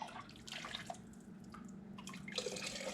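Hot beef bone broth drips and trickles from a measuring cup into a canning jar, making faint, steady liquid splashes and small drops.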